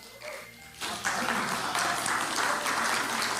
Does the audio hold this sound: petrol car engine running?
no